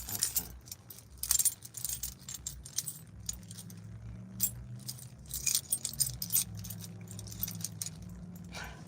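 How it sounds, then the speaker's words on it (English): A bunch of keys jangled and shaken in bursts of bright metallic clinking, close and fairly loud, with uneven pauses between the shakes. "Each one of these keys go to something."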